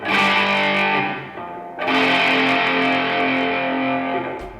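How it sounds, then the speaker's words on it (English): Overdriven electric guitar power chords ring out loud and alone, one thick distorted chord sustaining, then a fresh strike around the midpoint that holds to the end. "tons and tons of songs use some kind of overdrive or distortion"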